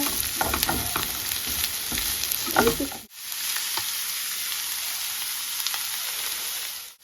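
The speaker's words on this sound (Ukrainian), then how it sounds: "Сюди додаємо моркву та перчик. І перемішуємо добренько." Onion, carrot and pepper fry in sunflower oil for borscht, giving a steady close sizzle broken by stirring scrapes and taps, with a brief pause near the middle before the hiss resumes.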